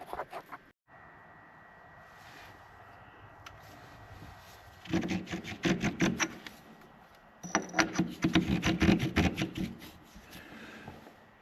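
A metal part for a Kubota BX2816 snowblower sprocket upgrade is polished by hand, with rapid bursts of close rubbing strokes that start after a quiet stretch and repeat in two clusters.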